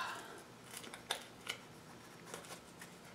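Quiet, sharp scratchy clicks and pokes at irregular intervals, a paper clip pressed through a cardboard circle up close, with faint rustling between.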